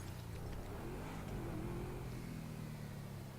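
A car driving in the video game GTA 5 Online, a faint steady engine hum with a slight rise in revs partway through, low and continuous with no speech.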